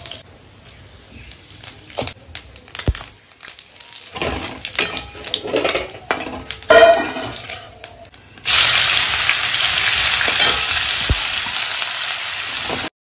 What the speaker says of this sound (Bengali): মা এখানে চিকেন নিয়ে এসেছিল আর এখন সেটাই রান্না করছে